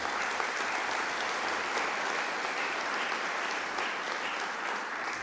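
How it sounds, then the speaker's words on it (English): A large crowd at a graduation ceremony applauds steadily for several seconds, a dense and even wash of clapping with no voices over it. "Big round of applause."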